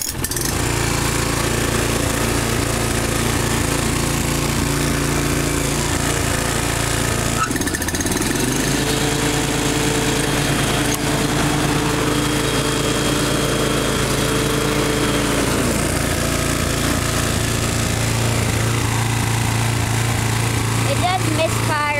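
A Toro Timemaster 30-inch lawn mower engine cranks and catches, then runs with an uneven, misfiring putter. The engine is loud and close, with a steady low drone, a brief dip as it starts, and voices speaking over part of it.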